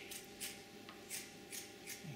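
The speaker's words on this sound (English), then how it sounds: "A lot easier to cut that skin with scissors than it is with a knife." Quiet, rhythmic snips of scissors cutting pork skin, about five crisp cuts at even intervals, close up with no talking.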